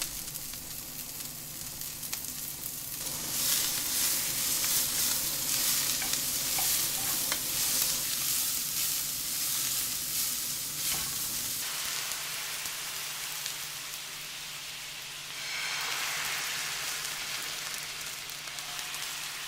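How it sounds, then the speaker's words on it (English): Food sizzles and crackles steadily in a hot pan, a continuous hiss that swells louder near the end. "this 5-minute recording that I made of me frying some food"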